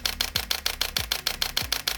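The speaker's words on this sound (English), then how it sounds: "You can capture fast-paced action with bursts of up to 12 frames per second." A Canon R6 Mark II fires a rapid continuous burst, with evenly spaced, crisp shutter clicks at a steady mechanical rhythm, close and clear, with no voices.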